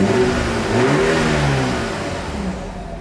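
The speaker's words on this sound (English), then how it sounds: "here is that exhaust clip" A 2026 BMW X3 engine revs through its exhaust, a loud close rumble that climbs in pitch, then settles back down toward idle.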